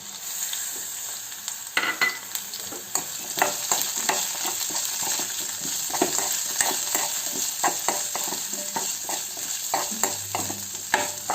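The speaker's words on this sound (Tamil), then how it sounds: "இந்த பூண்டெல்லாம் உடனே எண்ணெயில் வதங்கக்கூடிய பொருட்கள் தான்" Garlic, onion, cumin, pepper and a small piece of coconut sauté in oil, giving a soft steady sizzle broken by frequent spoon scrapes and taps against the pan, fairly quiet and close, with no speech.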